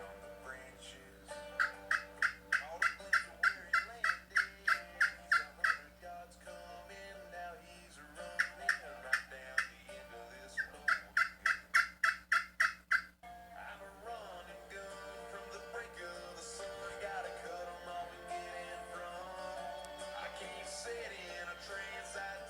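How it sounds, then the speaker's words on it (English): Repeated bursts of rapid rattling gobbles, several quick clusters in a row, followed by a softer, busier stretch of bird-like calls against a faint steady hum, moderately loud and without talk. "I hear the gobbling."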